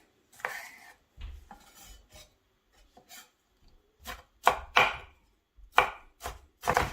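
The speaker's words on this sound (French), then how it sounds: "je coupe maintenant le poivron" A knife chops bell pepper into small cubes on a board, sharp rapid clusters of taps separated by short pauses, close and fairly loud with no talk.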